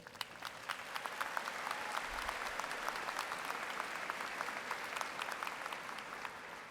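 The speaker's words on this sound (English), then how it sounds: "please join me in showing your appreciation for these very important people in your lives with a generous round of applause" Sustained applause from a large graduation ceremony audience at an Eastern Kentucky University spring commencement, dense steady clapping heard at a distance in a big hall, holding even throughout.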